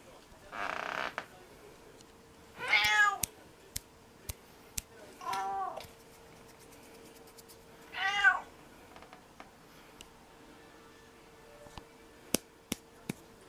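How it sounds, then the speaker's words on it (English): A cat meows three times, each call a drawn-out wavering cry, spaced a few seconds apart and fairly close, with a short breathy noise at the start and scattered faint clicks and taps between calls. "Coaster Cat says meow"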